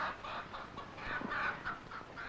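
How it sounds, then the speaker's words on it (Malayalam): A chicken clucks in a quick series of short, close calls, fairly faint and with no talking over them. "ഇത് കൊക്കല്ല, കോഴിയാണ്."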